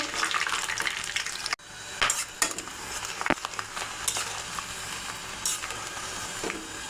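Whole garlic cloves and spices frying in hot oil for a raw mango pickle, giving a steady close sizzle broken by a brief dip and several sharp clatters of stirring against the pan.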